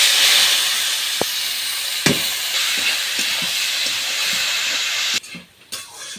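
Leafy greens poured into a hot pan for frying give off a loud, steady hiss and sizzle that runs for several seconds, then suddenly drops away into softer, broken crackling.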